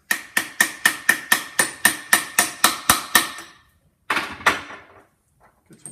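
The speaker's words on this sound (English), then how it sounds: "It needs to be supported in the rear by one of these coil bearings. Gently tap it in." A hammer gently taps a coil bearing into the rear case half of a Land Cruiser transfer case, delivering about a dozen evenly spaced, sharp metallic strikes, then a pause and two or three final taps, close and clear.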